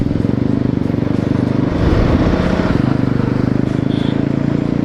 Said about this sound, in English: that exhaust note is too loud